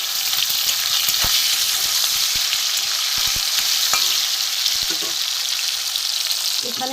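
Spices and tomato frying in a pan, a steady loud sizzle running throughout with occasional sharp clicks of a utensil stirring against the metal, no voices.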